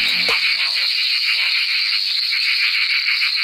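Frogs croak in a frog pond as a dense, continuous rattling chorus with a pulsing rhythm, steady and fairly loud, after a brief low thump at the start.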